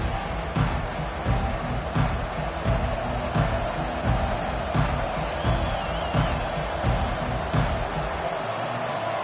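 A dense, steady roar from a stadium crowd at an Ole Miss college football game fills the whole stretch, loud and unbroken, with faint thumps scattered through it.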